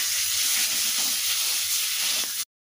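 Mashed potatoes fry in a pan with a steady, bright sizzle and hiss, close and unbroken until it cuts off abruptly.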